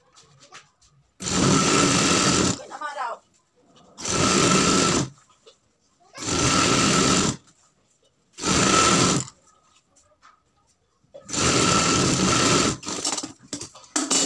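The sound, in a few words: sewing machine stitching a fabric frill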